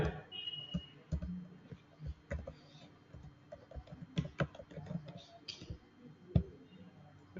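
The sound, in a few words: typing customer details on a computer keyboard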